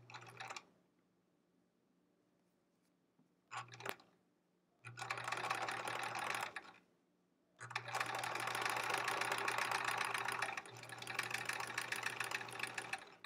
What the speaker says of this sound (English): we'll stitch on the other side of that diagonal press that we put in here